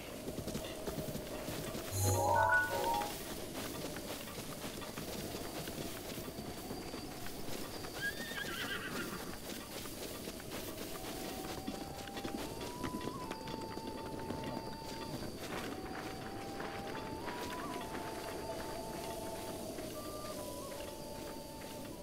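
Horses in The Legend of Zelda: Breath of the Wild neigh and whinny near the start, with steady clip-clopping hooves and outdoor ambience running underneath.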